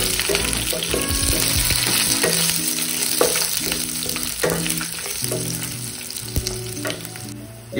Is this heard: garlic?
yes